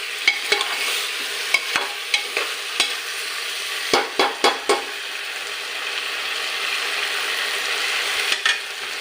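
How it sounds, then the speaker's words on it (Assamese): Broiler chicken and potatoes frying together in a pan, with a steady bright sizzle throughout, punctuated by sharp utensil clicks and scrapes from stirring, clustered in the middle and near the end. "এতিয়া অলপ ভাজি ল'ম এইখিনি"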